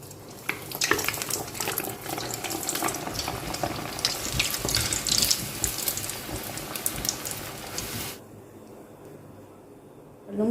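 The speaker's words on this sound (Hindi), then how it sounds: "अब यहाँ पर मैं नगेट्स फ्राई करके आपको दिखाती हूँ।" Chicken nuggets frying in hot oil in a home kitchen, a steady close crackling sizzle for about eight seconds that then drops away to near quiet.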